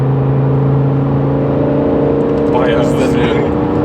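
A BMW M6 E63 engine drones at a steady 3000 rpm from inside the cabin, a constant low hum with a faint rise in pitch near the end.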